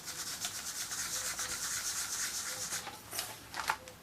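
A foam pad rubbed with chalk ink across paper in a scrapbooking square, giving soft, rapid scrubbing strokes in a continuous rhythm, close and fairly quiet, with no talk.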